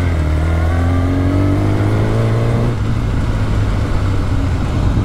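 Kawasaki motorcycle engine revving loudly and close, its pitch climbing in a rising sweep before settling into a rough, rumbling idle, with no talking over it.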